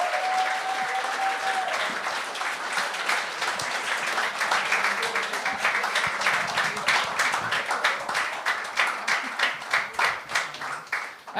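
A Gong Show audience applauds steadily, a dense wash of clapping that grows more rhythmic toward the end, with a brief whistle near the start.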